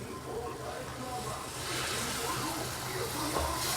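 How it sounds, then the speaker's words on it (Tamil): Hot boiling water pours into ghee-roasted wheat flour for halwa, a steady close hiss and sizzle that swells and lingers as it keeps running in. "இப்போ நம்ம கொதிக்க வச்சுருந்த தண்ணியை கொஞ்சம் கொஞ்சமாக ஊற்றிக்கலாம்."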